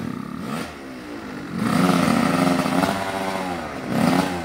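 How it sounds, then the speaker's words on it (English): A dirt bike engine revs high and close, its loud buzzing drone climbing and falling in pitch through repeated throttle blips, with no talk over it. "He's gonna have to rev it out real high."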